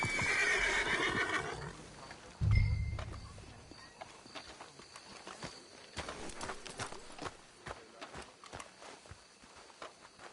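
Horses in Red Dead Redemption 2 whinny loudly near the start, then a heavy thump lands and hooves clip-clop in an uneven walking rhythm that carries on steadily to the end.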